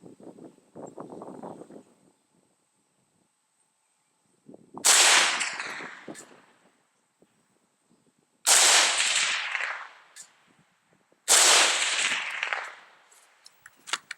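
Three sharp, loud gunshot volleys from an AK pistol fired at a 50-yard range, each a cracking burst with a ringing tail, separated by short pauses after some faint rustling at the start.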